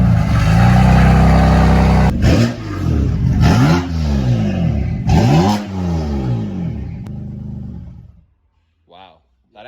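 A BMW M4 with an MHD stage 2 tune and aftermarket exhaust holds a loud idle-to-high roar, then is blipped in several sharp revs that climb and fall back before the engine cuts and goes quiet.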